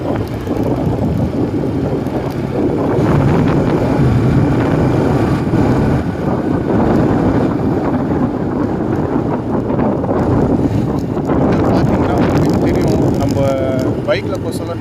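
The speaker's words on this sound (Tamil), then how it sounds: "பைக்கில் போக சொல்ல நார்மலாக அடிக்கிற காற்றை விட இங்கே வந்து சூப்பராக அடிக்குது காற்று" Strong wind buffets the microphone on a moving motorbike near Thiruvallur, a loud rumbling roar with engine drone that swells and eases, while someone talks over it.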